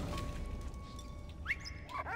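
A dog barks and yips in the video game Valiant Hearts, two or three short sharp calls near the end over a steady ambient hum.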